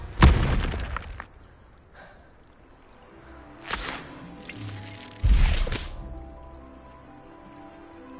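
Expelliarmus spell cast in Hogwarts Legacy: three sharp magical bursts, each a sudden loud whoosh-and-impact followed by a fading tail, separated by quiet gaps, with no talking.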